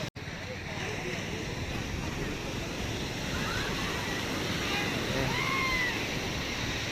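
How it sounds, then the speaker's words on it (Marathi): Sea waves wash continuously onto the shore at the Ganpatipule beach in Konkan, a broad steady roar of surf with wind rushing over the microphone and no clear individual break. "फक्त तुम्ही पाण्याचा आवाज फील करा"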